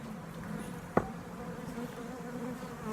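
Bees droning around a hive, a steady faint hum with one sharp knock near the middle and no voices.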